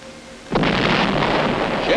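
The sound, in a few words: UN fleet ships firing point blank at Wolmi island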